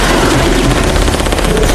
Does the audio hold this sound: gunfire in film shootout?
yes